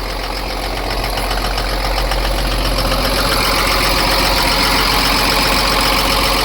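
Old Cummins diesel engine that sat for years idling just after its first start, a steady close rumble with a fine knocking texture running throughout without speech.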